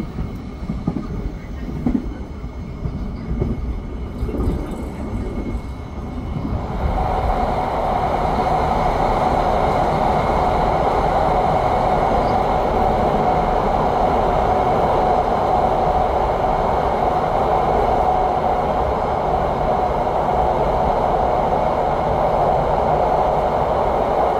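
Inside a moving passenger train running between Jogja and Jakarta in Indonesia, a rumble of wheels and carriage noise that rises after a few seconds into a steady loud roar with a constant whine.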